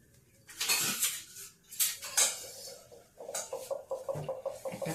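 Metal spatula scraping and clinking against a pan while making patishapta pitha, a few loud scrapes early on, then a quick run of light rhythmic taps close by, with no talking.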